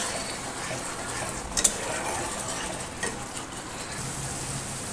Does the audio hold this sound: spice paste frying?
yes